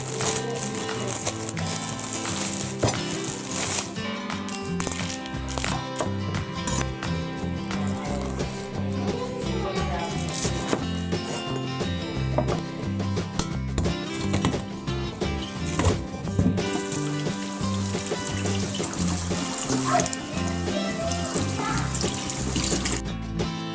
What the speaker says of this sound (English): I'm going to start prepping these, washing them, and getting them chopped up.